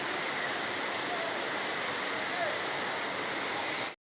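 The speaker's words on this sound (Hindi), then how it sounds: "गंडाहाती जलप्रपात" Gandahati waterfall pours in a steady, loud, unbroken roar of rushing water, close by and alone, holding constant until it cuts off abruptly.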